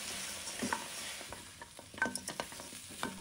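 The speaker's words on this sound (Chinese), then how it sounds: "把它炒均匀" Pork trotters stir-fried in a wok with spices, soy sauce and salt, giving a soft, continuous sizzle with scattered scraping clinks of the spatula against the pan, close and quiet.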